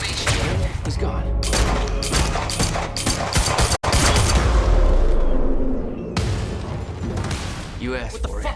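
Sustained gunfire from the video game Quantum Break, a dense, loud fusillade of rapid shots and thuds that runs through most of the stretch with a brief cut near the middle, while voices talk over it.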